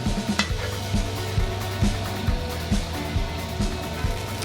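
Fish fries in a hot pan as butter melts around it, a steady close sizzle broken by several soft, regular knocks and stirring clatters of a utensil against the pan.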